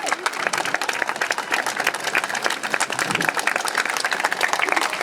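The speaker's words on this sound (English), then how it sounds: "You can clap if you want to." A crowd at an outdoor End SARS protest in Liverpool claps after a speech, a busy, sustained patter of many hands with scattered voices and cheers mixed in throughout.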